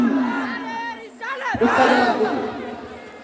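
A large crowd at a religious conference chants the Takbir slogan, a swelling mass of voices shouting in unison after a lone leading call, loud and reverberant.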